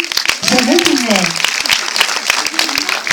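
Audience at a live show in Montluçon applauding a young man called up on stage, a dense burst of clapping with a voice speaking over it throughout.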